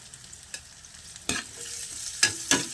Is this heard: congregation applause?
no